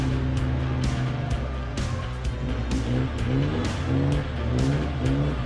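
A truck engine revs and strains continuously while stuck in a mud bog on a rough Central Otago track, with rising and falling throttle surges and spinning-wheel roar throughout.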